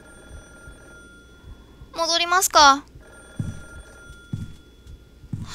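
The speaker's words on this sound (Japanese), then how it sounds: "今度は電話？" A telephone rings in the horror video game CALLING: two loud bursts of bright, trilling bell tones close together. A voice speaks quietly afterward.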